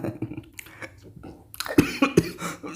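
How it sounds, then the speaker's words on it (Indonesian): A handful of short, sharp coughs in quick succession toward the end, following quieter mouth and throat noises, close to the listener. "Nah, seperti saya ya, batuk ya."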